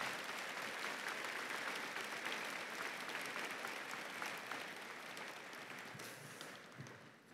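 A large commencement crowd at UMBC applauds university faculty and staff award recipients, with continuous, fairly distant clapping that slowly thins toward the end.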